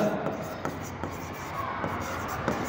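Marker or chalk strokes on a board while an accounts problem is worked out, with short scratchy squeaks and taps in quick irregular bursts, faint and close, under someone speaking.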